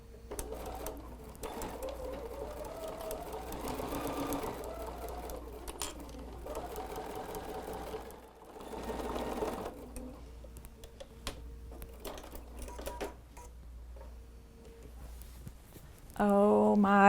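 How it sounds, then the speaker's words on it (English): A sewing machine stitching a 1/8 inch seam around a fabric drying mat made with a Bosal sew-in form, running in steady whirring bursts with brief stops, close and clear, with faint talk at moments. "let's go ahead and take that to the machine, and we're going to sew an 1/8 inch all the way around"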